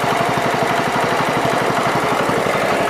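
A John Deere 110 lawn tractor engine runs steadily close by, a loud, even chugging with a rapid regular firing beat that holds through the whole stretch without pause.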